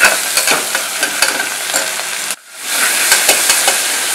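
Onion and mint leaves sautéing in a pan make a loud, close, crackling sizzle with spatula scrapes, cutting out abruptly for a moment before the hissing fry resumes, no voices.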